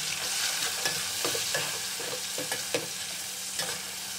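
Tomatoes fry in a pot for degi biryani, a constant bright sizzle with repeated scraping stirs and light taps of a spoon against the metal, close and alone without talk.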